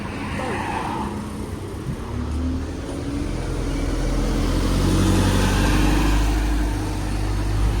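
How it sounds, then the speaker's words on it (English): A bus approaching at a rebuilt bus station in Kingston, its engine rumble swelling steadily louder as it draws near, low and heavy, with street ambience around it. "I see the bus coming."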